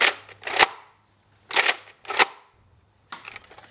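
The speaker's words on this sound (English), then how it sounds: "And now two darts that are slam fire and at an angle." A Nerf Elite Alpha Trooper blaster slam-fires darts outdoors: sharp, close, snappy bursts in separate clusters with short quiet gaps between shots.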